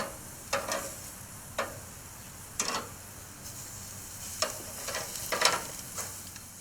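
Food sizzles with a steady soft hiss in a hot frying pan while it is flipped, a few sharp scraping clatters standing out at irregular moments; no one speaks.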